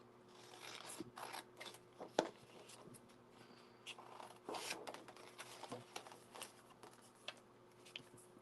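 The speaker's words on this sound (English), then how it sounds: "Kind of fussy cut some of these out." Scissors fussy cut small shapes out of craft paper, a close, quiet run of irregular snips and paper rustles with a few sharper clicks. The background is a soft hum.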